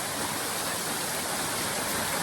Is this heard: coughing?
no